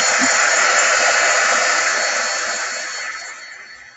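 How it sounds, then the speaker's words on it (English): A handheld quick dry heat tool blows a steady, loud rush of air over shrink film during a crafting session, a continuous whoosh that fades slightly toward the end with no talking. "be careful when you're using your quick dry tool because you don't want your shrink film to start shrinking"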